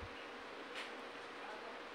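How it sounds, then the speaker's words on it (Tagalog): Faint high-pitched insect-like buzzing, like a cricket, a steady thin drone under broadband hiss, quiet and continuous for about two seconds. "May napakinggan akong kuliglig."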